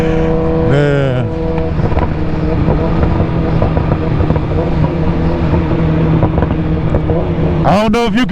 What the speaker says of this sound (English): I don't know if you guys can hear that popping and banging